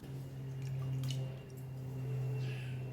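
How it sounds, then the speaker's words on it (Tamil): Washed rice goes into water in a clay pot with soft, wet squishing and a few drips, quiet and close, with no talking. "அதுக்கப்புறம் நம்ம அரிசியை களைஞ்சு தண்ணியில் சேர்த்துக்கலாம்"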